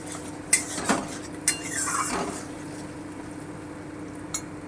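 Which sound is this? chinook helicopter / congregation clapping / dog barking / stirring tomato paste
stirring tomato paste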